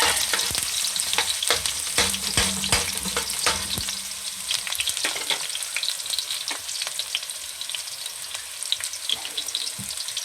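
Garlic and onion sautéing in an oiled pan for a pork pochero, giving a dense crackling sizzle broken by frequent clattering stirs of a utensil, without any talk.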